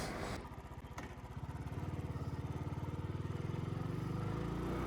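A motorcycle engine on a highway ride, a loud close rhythmic chugging that settles into a steady pulsing drone as the bike gets under way, with wind rush and no talk.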